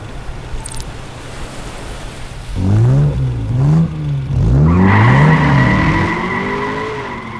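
A Ferrari sports car revs hard through rising and falling engine sweeps, and its tires squeal loudly as it finishes with a sustained high-pitched skid.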